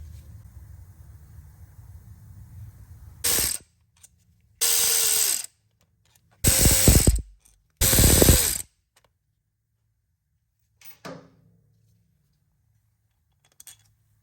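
Ratchet fitted with a Torx 40 socket loosening bolts on the transfer case encoder motor of a 2015 Chevrolet Silverado, several short loud bursts of clicking separated by silences, close up, no talking.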